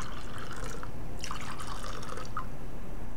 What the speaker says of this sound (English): First, we're going to pour a couple inches of water into each glass.